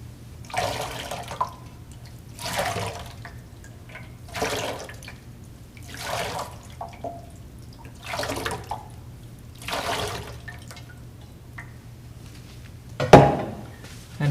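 Water is poured over hands for Jewish ritual handwashing at Shabbat, about seven separate gentle splashes and trickles at a steady pace, close and fairly quiet, with no talk over them.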